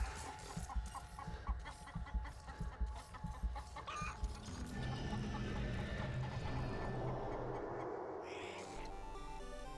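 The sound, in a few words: big chicken clucking in Black Ops 3 Dead Ops Arcade 2 video game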